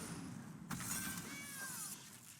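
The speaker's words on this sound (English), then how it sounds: "That's a lot of cats." Cartoonish cat meows from MTG Arena card effects, a short quiet cluster of mews over a faint backdrop, with no talking.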